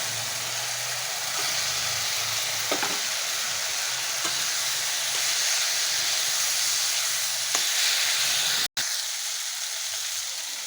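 Potatoes frying in a pan of spiced masala for egg and pea ghugni give off a steady, close sizzle and hiss, with a brief sharp break near the end.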